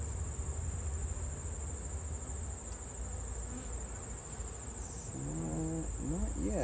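Honeybees hum steadily around an open hive during an inspection after Formic Pro treatment, a dense, continuous swarm drone close by, with a brief higher chirp near the end and no talking.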